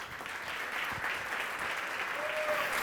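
At a public talk on drugs and cannabis, an audience gives a sustained, even round of applause for an incoming speaker, heard somewhat distant and soft.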